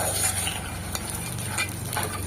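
Tomatoes fry in a pan for a chutney, a steady close sizzle broken by a few scraping stirs of a spoon against the pan, with no talking.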